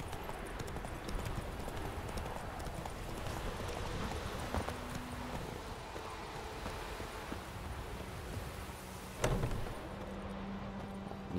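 Roach the horse galloping in The Witcher 3, with rhythmic hoofbeats pounding steadily under wind and ambient game sound, and a brief sharp accent near the end.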